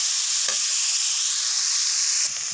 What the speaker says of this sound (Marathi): कढईत ना तूप किंवा तेल आपण टाकून घ्यायचे आणि त्यात हा गाजराचा किस टाकून द्यायचा आणि त्याला मस्त आहे ना हा परतून घ्यायचे